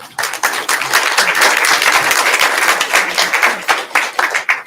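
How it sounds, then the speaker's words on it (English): At a genealogy lunch-and-learn gathering, the room gives a loud round of applause, many hands clapping close and fast in a thick, steady burst that briefly trails off at the end. "Please give a round of applause for both of them"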